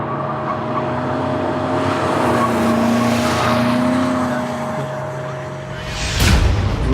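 A BMW M5 drifting, a loud sustained engine roar with wavering pitch and tire noise, swelling in the middle and ending in a sharp burst.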